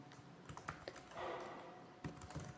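Someone types JavaScript code on a computer keyboard, a quiet, close run of irregular key clicks and taps with short pauses, with no talking.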